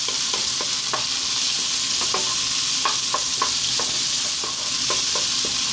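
Ginger and garlic stir-frying in a wok over maximum heat, giving a steady loud sizzle with a scatter of sharp clicks and scrapes from stirring, and no voices.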